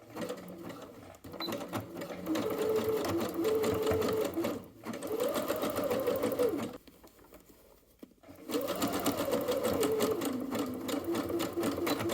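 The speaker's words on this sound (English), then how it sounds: "I just use the machine to stitch the hems together" Garment hems are stitched together on a sewing machine in several bursts of fast, close whirring, with short pauses and one longer quiet gap before the motor runs again.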